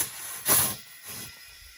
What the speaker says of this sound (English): let's get this tire aired up